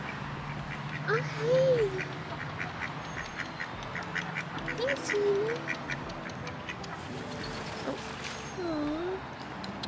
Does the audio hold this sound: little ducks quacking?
yes